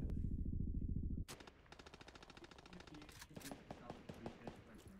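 Gunfire in the video game Deadline, a fast rattling burst of shots that gives way to quieter scattered shots, with people talking over the action.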